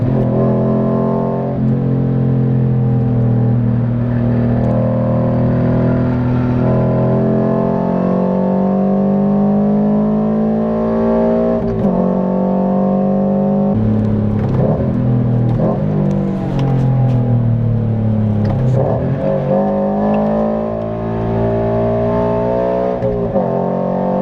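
A car drifting on its stock steering angle roars close by, the engine revving hard and repeatedly rising and falling in pitch as the throttle is worked through the slides, loud and alone.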